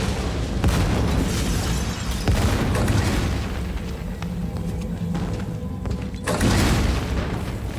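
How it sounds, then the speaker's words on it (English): A loud, heavy explosion from a binary explosive blast at a warehouse full of munitions in a TV drama, with a deep booming rumble that keeps going, swells again near the end and has no speech over it. "That's a binary explosive."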